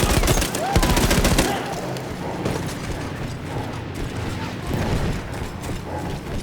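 Machine gun fire in the World War I shooter Battlefield 1, a rapid rattling burst up front that gives way to continuous mechanical clatter and battle noise, with faint voices in the mix.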